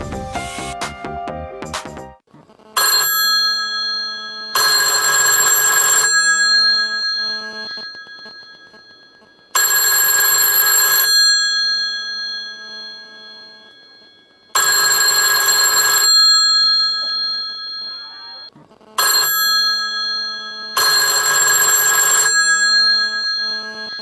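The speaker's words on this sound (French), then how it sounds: "il me semble que le téléphone rouge va sonner" A red telephone rings in The Sims 2, loud bright electronic ring bursts repeating about four times at steady intervals with short silent gaps between them.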